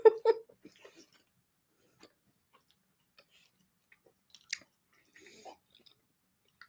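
Crunchy Scandinavian snack being chewed by people, a few loud close bites and crunches at the start, then sparse faint chewing clicks with a brief crisp crunch midway.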